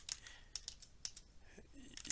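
Keys tapped on a computer keyboard in short irregular bursts, quiet and close, with brief pauses between clusters of clicks.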